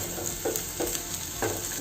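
Onions frying to golden brown in a pan, a soft, steady sizzle with a few faint stirring scrapes over a brief moment.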